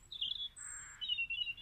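A short burst of birdsong: a few clear, high whistled and trilled notes, fairly faint and heard alone over a quiet background.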